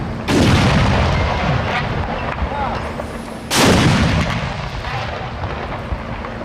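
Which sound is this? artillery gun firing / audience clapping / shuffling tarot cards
artillery gun firing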